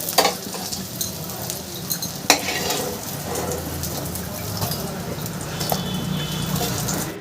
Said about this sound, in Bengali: বেগুনটা আমি হালকা করে একটু ভেজে নেবো